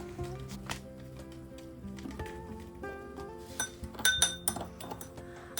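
A spoon stirs salad dressing of sugar, salt and coriander in a small cup, making quiet, irregular clinks and taps against the sides that grow into a quicker cluster of ringing knocks toward the end.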